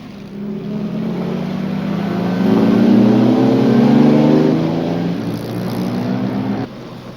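A Ford-engined Lotus 22 racing car at a vintage race meeting passes by with a loud, steady engine drone that swells as it nears, peaks, then eases away over about seven seconds before cutting off.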